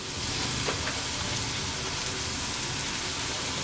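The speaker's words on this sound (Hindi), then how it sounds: "बस चंद सेकंड के लिए हम इन्हें दूसरी साइड से भी पकाएंगे और बिल्कुल इसी मेथड से हम सारे फ्राई कर लेंगे" Mash dal kebabs frying in oil in a pan, a steady dense sizzle like light rain holding evenly throughout, close and moderately loud, with no talk.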